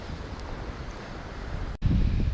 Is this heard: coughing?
no